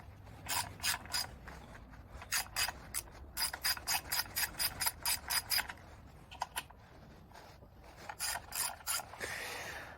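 A ratchet wrench clicks in quick rhythmic bursts while removing bolts from a Polaris 400 engine, close and crisp, with short pauses between runs of ratcheting and a brief scraping rub near the end.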